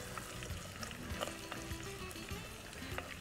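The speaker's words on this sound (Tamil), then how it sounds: "போட்டு நல்லா வதக்கணும்." Onions sautéing in a pan give off a steady, dense sizzle with faint crackles, close and moderately loud, with no voices over it.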